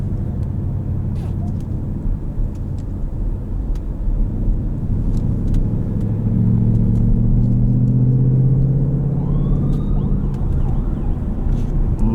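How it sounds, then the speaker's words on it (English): An ambulance siren rises faintly in the distance and swells into a wavering wail. It sits beneath the steady cabin rumble of a 2020 Ford Mustang GT Premium Performance Package automatic driving on the road. "Oh, it's an ambulance"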